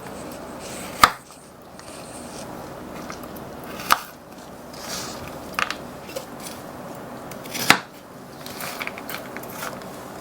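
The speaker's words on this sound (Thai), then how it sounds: "ก่อนอื่นเราก็นำมาสับให้เขาเป็นชิ้นเล็ก ๆ ก่อนนะคะ" A knife chops fresh or frozen strawberries into small pieces on a board. A handful of sharp, sparse knife strikes sound up close against quiet background rustling, with no talking.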